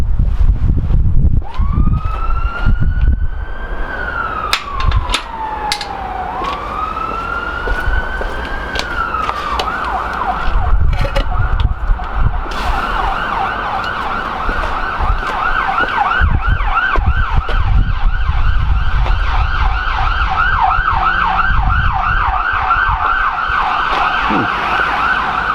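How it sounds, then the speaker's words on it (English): Ambulance siren passing outside a home bicycle workshop, its wail rising and falling before switching to a fast repeating yelp, loud and sustained with a low road rumble underneath and no talking. "There's the ambulance."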